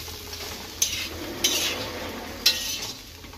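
Soft potatoes are turned over in a pan on the stove with a spatula: three sharp metal scrapes and clinks over a low, quiet sizzle.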